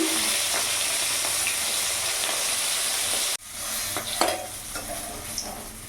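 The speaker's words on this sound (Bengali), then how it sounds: "মাছের মাথাগুলো লাল করে ভেজে নিয়েছি" Fish heads frying in hot oil, a loud continuous sizzle that cuts off abruptly partway through, then resumes more softly with a few clinks and stirring sounds close by.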